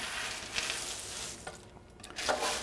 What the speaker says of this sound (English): with a spatula, you can go in from the edge and then lift and turn